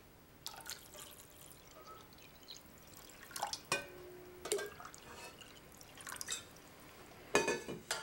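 Water is added while making a saffron-infused apple drink, heard as faint, scattered drips and small splashes at close range in a quiet kitchen.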